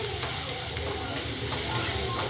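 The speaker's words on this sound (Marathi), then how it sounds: "तेलामध्ये टाकलेले आहे लसूण आणि मिरची टाकलेले तेलामध्ये एकदा एकजीव करून घेऊया" Garlic and green chilies sputter in hot oil while being stirred, a steady close sizzle with light scraping taps.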